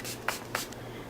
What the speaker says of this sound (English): so I spray.